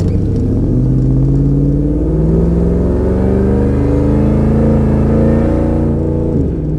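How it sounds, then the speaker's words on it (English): A 2002 Ford F-150 Harley-Davidson supercharged 5.4 engine accelerates with a rising supercharger whine over a deep, throaty exhaust rumble, loud and close, climbing steadily before easing off. "a great combination of the Supercharger whine as well as a good exhaust note"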